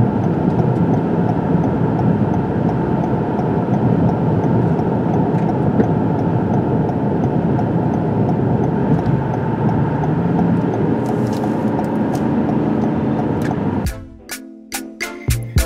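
A 2021 Toyota Camry XSE, a front-wheel-drive mid-size sedan with a 2.5-liter four-cylinder and 8-speed automatic, drives through corners with steady loud engine and road roar inside the cabin. The noise cuts to a few clicks and knocks near the end.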